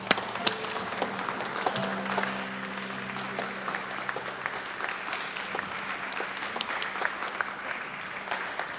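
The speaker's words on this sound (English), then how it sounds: "tonight we clap for our teachers" An audience at an evening gathering applauds its teachers, a dense and steady burst of many hands clapping that fills the room from start to finish.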